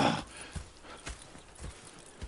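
Horse hooves clip-clop in evenly spaced soft thuds at a frontier camp in the video game Red Dead Redemption II, quiet and close with a faint background hush.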